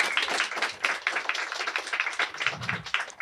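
A room full of people clapping at a monologue night, the claps crisp and close, forming a lively, slightly uneven patter that holds steady for a few seconds.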